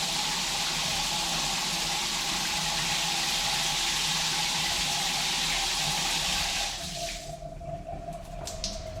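Water pours from a newly installed shower in a steady loud hiss that drops off abruptly near the end, leaving faint drips and a lingering hum.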